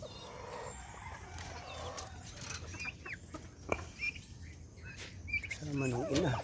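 Turkeys cluck and chirp in scattered bursts over a faint outdoor background, with a few louder calls near the end.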